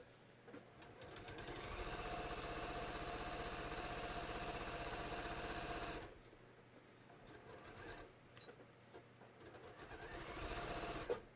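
A sewing machine stitches through layered fabric of a hiking belt, running in a long steady mechanical whir, pausing briefly, then in shorter bursts with quiet handling noise between.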